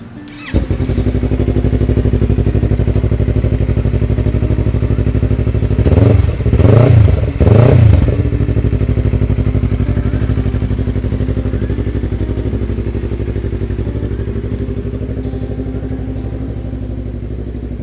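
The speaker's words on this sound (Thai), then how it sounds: "เครื่องยนต์นิ่งปกติดีนะครับ" A 2019 Yamaha YZF R3 motorcycle with an aftermarket exhaust idles steadily close by, with a couple of quick throttle blips in the middle before it settles back to a smooth, even idle.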